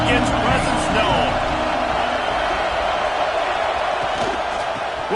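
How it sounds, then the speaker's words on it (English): Stadium crowd in a College Football 26 game, a steady loud roar of spectators with cheering swells filling the whole stretch, with broadcast commentary voices running over it. "This crowd ready to make its presence known."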